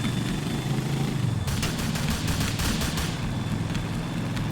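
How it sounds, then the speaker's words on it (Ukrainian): Gunfire in the video game GTA: The Lost and Damned, a sudden burst of rapid shots crackling for about a second and a half over a steady background rumble. "по мені тут бляха-муха стріляють"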